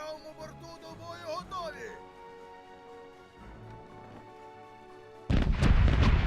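A single loud, booming explosive cannon shot in the naval pirate game Corsairs Legacy bursts in near the end, following several seconds of quieter game music and ambience.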